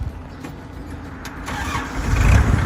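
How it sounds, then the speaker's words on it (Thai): The engine of a used Kubota L4708 tractor, fitted with a front blade and a rear plow, cranks and catches, rising into a louder, rumbling run within about two seconds, close by. "เครื่องนิ่มๆติดง่ายๆนะครับผม"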